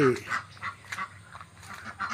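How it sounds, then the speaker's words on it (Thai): Ducks quack in short, repeated nasal bursts at a duck coop on a Thai farm beside a fish pond, moderately close, with some faint background voice. "นี่คือเล้าเป็ดนะครับเล้าเป็ด"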